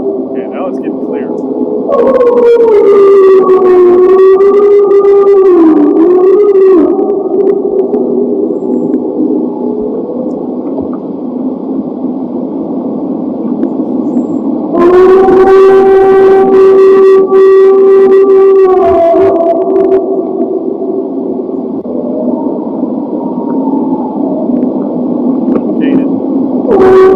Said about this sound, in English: I don't know if that's a wolf or a